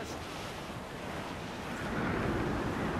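Stormy wind and crashing waves surge steadily at sea aboard a sailing ship in Assassin's Creed IV: Black Flag, a dense continuous roar growing slightly louder toward the end, with no voices.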